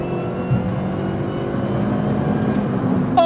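A supercharged R53 MINI Cooper S with a 17% supercharger pulley and intercooler revs with a steady engine drone, rising slightly toward the end, and a thin supercharger whine on top.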